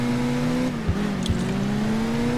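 Race car engine in the video game Crash Time 2, a steady droning hum with slight pitch shifts and a couple of brief bumps, loud and continuous throughout.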